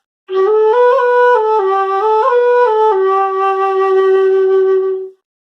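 A breathy wooden Irish flute plays a short melody alone, notes stepping up and down with a steady sustained tone, close and clear, ending on a held note.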